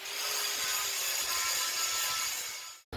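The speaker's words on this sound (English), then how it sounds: "I have to grind off all this outside weld, make sure the copper is sitting in the correct place" Grinding away outside weld from a copper knife billet gives a steady, bright abrasive hiss that runs evenly for a few seconds and then stops abruptly.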